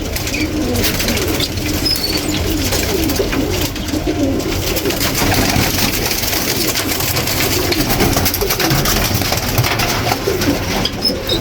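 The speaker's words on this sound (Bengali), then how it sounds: "এর সামনে একটা হুমা কবুতর ছাড়ি" Several pigeons coo continuously nearby, soft throaty rolling calls overlapping in a steady murmur, with occasional wing flutters and faint background hum.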